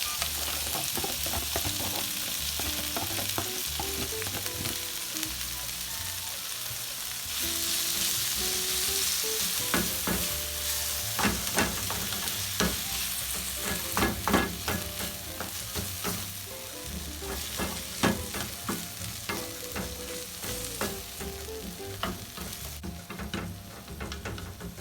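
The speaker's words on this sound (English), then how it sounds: "So I've added a little fresh oil to the pan, and I'm going in with my vegetables." Vegetables fry in fresh oil in a pan for a chicken and shrimp chow mein, a steady close sizzle with frequent sharp clicks and scrapes of stirring that grow busier midway, with no talking.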